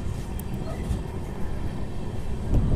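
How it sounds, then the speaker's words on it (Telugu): LHB coaches of the 12731 Tirupati–Secunderabad SF Express rolling through a gentle curve on a single-line hill route, producing a steady, loud broadband rumble with rattling wheel noise and a brief surge near the end. "మన ట్రైన్ కానీ చూసుకుంటే లైట్ కర్వ్ అయితే తీసుకుంటుంది"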